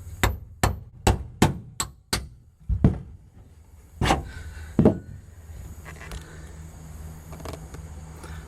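Sharp hammer-like punches driving a hole through car carpet for a seat bolt in a Plymouth Duster: six quick strikes in a row, then a few slower, spaced blows, loud and close, followed by quieter shuffling.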